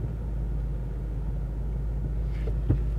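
A loud car's engine rumbles deep and steady from inside the cabin, a constant low drone with a brief knock near the end and no speech.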